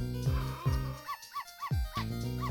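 A dog in the video game Ghost Trick: Phantom Detective barks repeatedly in a steady rhythm, a series of clear close yips and woofs.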